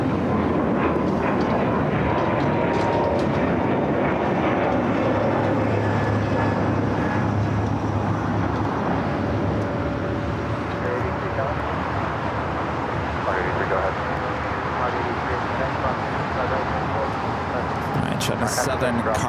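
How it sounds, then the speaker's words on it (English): A United Airbus A321neo takes off at Los Angeles airport, a steady, fairly loud engine rumble persisting throughout, with brief faint hisses near the end. "Do have a United A321 Neo now taking off"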